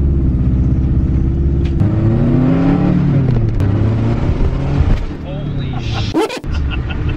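A Subaru WRX STI accelerates hard on a test drive, its engine rising in pitch through the gears with a brief burst of noise near the end, heard from inside the car.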